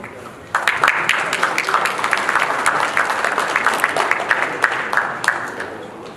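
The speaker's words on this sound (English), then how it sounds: "Please welcome them with a big round of applause." Audience at a conference in Seoul applauding as panelists and a moderator are invited onstage, dense sustained clapping that swells in after a quiet opening and continues steadily.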